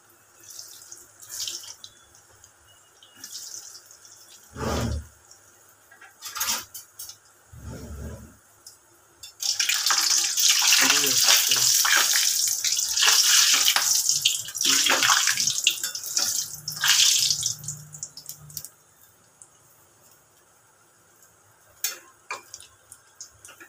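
Khoya kalojam sweets are lowered into hot oil for medium frying; a few soft clinks give way to a loud, bright sizzle that swells for several seconds, then gradually fades to quiet bubbling.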